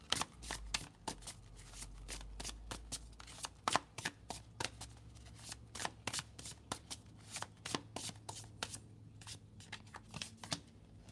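Tarot cards are shuffled and drawn by hand in quick bursts of crisp riffling and snapping clicks, close and fairly quiet, with short pauses between runs and no talking.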